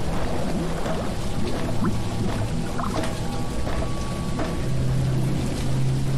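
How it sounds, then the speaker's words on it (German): Dense, continuous watery bubbling and gurgling from a hidden easter egg in the ghost-hunting game Phasmophobia, steady and fairly loud throughout with occasional brief pops and tones, no voices. "Blubberbläschen."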